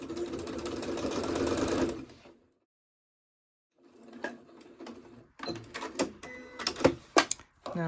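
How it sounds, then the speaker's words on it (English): A sewing machine stitches a ribbon quilt block in a steady whirring run, pauses to near silence, then resumes in short bursts with clicks and clunks from handling. "lift my presser foot and turn. And kind of give the thread a little tug, and then line it up and just keep sewing"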